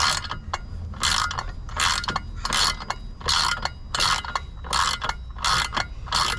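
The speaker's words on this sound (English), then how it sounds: "this is just a 1/4 inch ratchet" A 1/4 inch ratchet clicks in quick repeated bursts as it turns a bolt on a 2022 Can-Am X3 during a drive belt change, each stroke a close, crisp run of pawl ticks.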